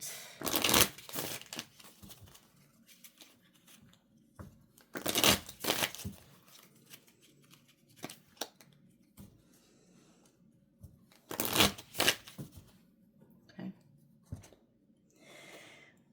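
Tarot cards being shuffled in repeated bursts of riffling and sliding, close and fairly quiet, with short pauses between rounds.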